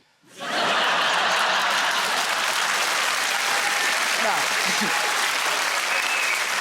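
A studio audience at a comedy show bursts into loud, sustained applause that starts abruptly and holds steady, with scattered chuckles under it.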